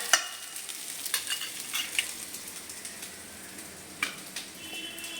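Potatoes and bitter gourd roast in a hot pan with a soft continuous sizzle, broken by light ticks and scrapes of stirring; close, fairly quiet, no talk.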